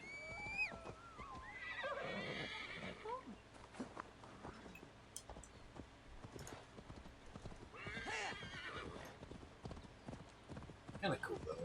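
Horse hooves clip-clop steadily with loud neighing and whinnying in Assassin's Creed Valhalla, the in-game horse running low on stamina, while people talk over the game audio.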